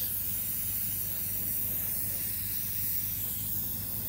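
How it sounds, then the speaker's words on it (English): An airbrush sprays a thin coat of paint onto scenery, producing a steady, even hiss that runs unbroken and fairly quiet with a faint low hum beneath. "one thing I like about airbrushing is being a thinner coat of paint"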